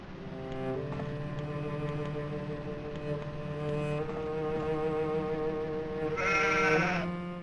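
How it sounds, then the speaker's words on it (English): Goats bleat in a livestock room in the survival horror game Rule of Rose, their sustained wavering cries overlapping and rising louder near the end over a steady low ambient drone. "Two little goats are shivering inside."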